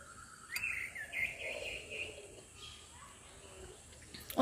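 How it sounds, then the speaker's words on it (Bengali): Mixed birdsong on a home rooftop, with calls from mynas, doves and a koel: a few clear chirps and whistles at mid distance over a quiet background hum. "অনেক রকমের পাখি ডাকতেছে"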